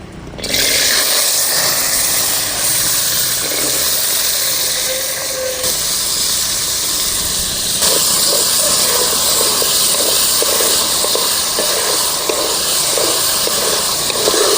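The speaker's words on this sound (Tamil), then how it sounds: "காயை கொட்டி வதக்கிக்கலாம்." Vegetables, small manathakkali berries, tipped into hot oil and sautéing in a pan, giving a steady loud sizzling hiss throughout with no talk.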